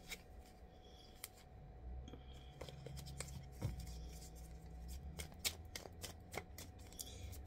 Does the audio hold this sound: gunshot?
no